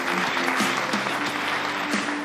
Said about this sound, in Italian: Bene, allora un applauso a Stefano e a Roberta Compagnoni.